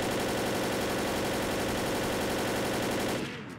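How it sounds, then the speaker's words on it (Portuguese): Dense, continuous automatic gunfire in the zombie shooter Left 4 Dead, a loud unbroken rattle of rapid shots filling the whole stretch before cutting off abruptly at the end. "Dando tanto de tiro que eu dei nele também."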